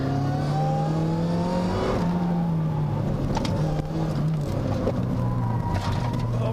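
A race car being driven on the Haunted Hills track, its engine droning loud and steady close by with a pitch that dips and rises through gear changes, under a commentator's voice.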